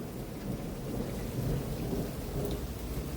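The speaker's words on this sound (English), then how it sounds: "You hear that thunder out there?" Low thunder rumbles continuously beneath steady rain in a Georgia electrical storm, a dense, even roar of rainfall with a deep rolling undertone and no voices.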